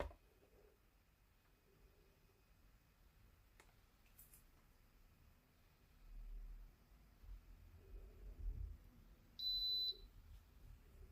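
A heat press timer gives a short, high electronic beep once near the end over a quiet room with faint low rumble and a few soft clicks.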